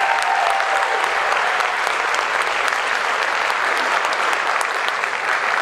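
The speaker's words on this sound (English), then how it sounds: "let's give one more round of applause for Houston Darden on the flugelhorn" Steady, full applause fills a high school band spring concert after a flugelhorn feature, a loud crowd of clapping hands sustained evenly from start to finish.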